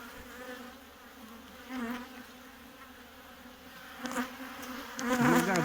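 Honeybees buzz steadily at an opened beehive during a pre-wintering varroa treatment check, a dense close hum that swells louder toward the end, with no voices.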